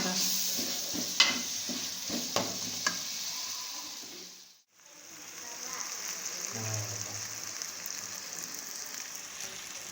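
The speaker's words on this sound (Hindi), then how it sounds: "इनको साथ साथ मिक्स भी करते रहेंगे चम्मच की मदद से ताकि नीचे न लग जाएं" Bitter gourd and onion fry in a pan while a spoon stirs them, giving a continuous sizzle with clinks and scrapes early on, a brief lull midway, then steady frying again.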